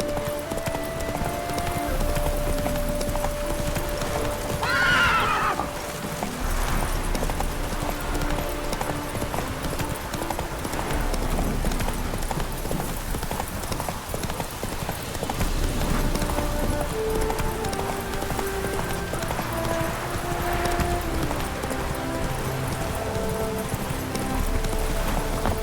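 Geralt's horse Roach gallops in The Witcher 3 video game, a steady clip-clop of hooves running throughout with an occasional brief whinny, set against game music and ambient sound.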